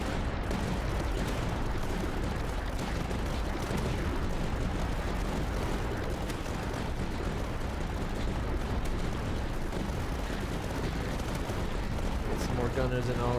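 Tower gunners and mortars firing in the strategy game Tower Dominion, a dense, continuous rumble of gunfire and heavy blasts that stays steady and loud throughout, with no let-up.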